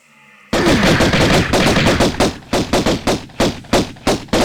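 Rapid bursts of gunfire from the Tomb Raider I video game in the level Natla's Mine, a loud, continuous rattle of repeated shots with short pauses between the volleys.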